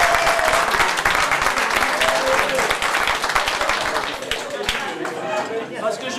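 Audience at a gathering in Aullène breaks into sustained applause, dense clapping from many hands that gradually thins toward the end.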